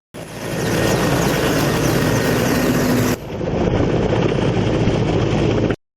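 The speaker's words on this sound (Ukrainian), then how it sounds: "далі переліт на вертольотах до визначених пунктів" Military helicopter flying troops to a drop-off point, a loud steady rotor and engine roar filling the whole clip, with one brief shift in tone partway through.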